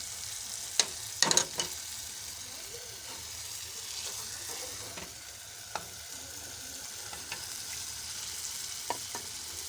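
Chicken liver hits hot masala and ghee, a steady broad sizzle of frying with a few sharp clinks and stirring knocks from the pan, close and continuous with no talking.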